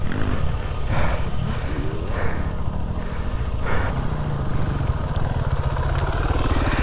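A KTM 390 Adventure motorcycle climbs an off-road hill, its single-cylinder engine revving hard and steadily up close, with clattering over rough ground and no talk.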